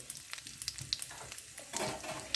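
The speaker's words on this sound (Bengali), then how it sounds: "জিরে একটু ভাজা ভাজা করে নিচ্ছি" Whole cumin seeds frying in warm mustard oil on low flame, a faint, quiet crackle and sizzle with scattered tiny pops, building slightly near the end, no speech.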